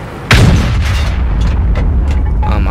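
A single heavy SU-152 tank cannon shot in World of Tanks, a loud, close boom followed by a rumbling tail and scattered distant impacts.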